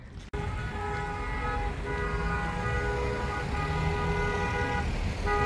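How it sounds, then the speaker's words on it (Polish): Car horns blare in long sustained tones from a Croatian wedding convoy driving past, steady and loud over road noise, with no talk. "Trąbią."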